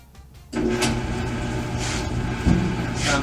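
A Whirlpool clothes dryer with a newly replaced belt starts up and its drum spins, a steady mechanical rumble and hum that begins abruptly after a quiet moment and holds at an even level, heard close.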